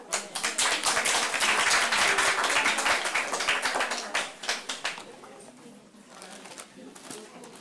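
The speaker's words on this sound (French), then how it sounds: "On peut l'applaudir." Council members applaud a newly elected deputy mayor at a municipal council session in Chalette-sur-Loing, France, with dense indoor clapping for about five seconds that then thins into scattered claps and murmuring.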